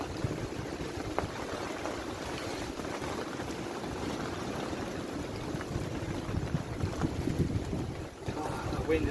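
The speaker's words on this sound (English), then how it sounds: "The wind is getting stronger." Outdoor wind gusting steadily across the microphone as it strengthens, a continuous low rushing roar with broadband buffeting and no talk.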